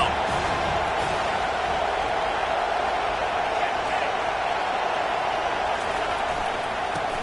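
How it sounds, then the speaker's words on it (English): A stadium crowd roars at a football game on a third-down defensive play, a broad, loud, sustained wash of cheering and noise that holds steady from start to finish. "Decibels rising as the crowd gets behind this defense on 3rd down."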